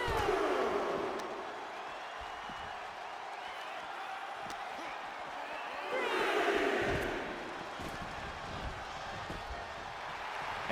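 Video game crowd cheering at a WWE Survivor Series match, a steady roar from a large arena audience that swells louder partway through while a commentator talks over it.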